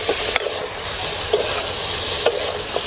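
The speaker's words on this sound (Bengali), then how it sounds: "রুনাপা আগে এই ফুলকপিটা একটু তেলে ভেজে রাখছিল" Cauliflower frying in oil, a steady close sizzle broken by a few sharp scraping stirs at intervals, with no one talking.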